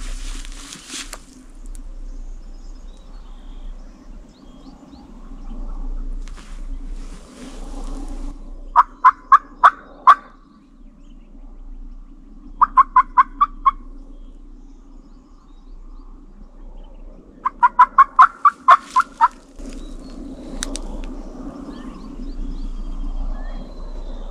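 A wild turkey hen yelping in the field during spring turkey season, three separate runs of rapid, evenly spaced calls, each a handful of notes long, carried clearly over a low steady rumble and faint outdoor background.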